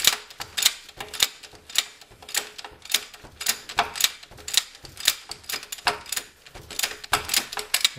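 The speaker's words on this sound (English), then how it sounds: "that's why I use this large size ratchet with 15mm socket" Large ratchet with a 15mm socket loosening the starter bolt on a 2002 Dodge Neon: brisk, evenly repeated bursts of crisp ratcheting clicks, close and fairly loud, with no voices.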